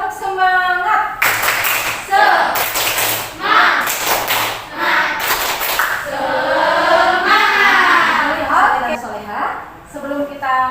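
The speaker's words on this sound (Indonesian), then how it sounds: "ibu mau tepuk semangat dulu" A primary classroom claps a rhythmic 'tepuk semangat' spirit cheer in loud, patterned bursts for several seconds, followed by a woman teacher's voice speaking over the room.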